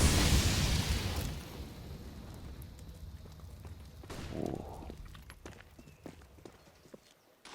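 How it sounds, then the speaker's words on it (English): A grenade going off in a CS:GO match on the Inferno map, with a loud, broad blast at the start that decays into rumble, followed by a smaller burst and scattered clicks and game effects, with no talk. "Good grenade, that's gonna do a ton of damage."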